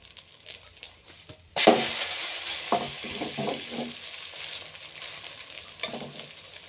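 Egg with bitter melon fries in a pan over medium heat, a steady crackling sizzle that swells suddenly and then carries on with soft scraping and stirring sounds, close and fairly loud, with no talking.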